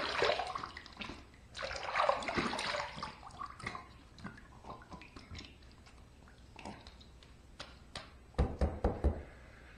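A razor being rinsed under running water during a shave: splashing and trickling water with sharp taps and knocks of the razor, faint overall, with a few louder knocks near the end.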